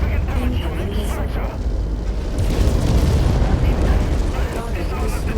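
Missile explosions in the video game MechWarrior 5: Mercenaries rumble loud and continuous, a dense roaring blast layered with game voice callouts.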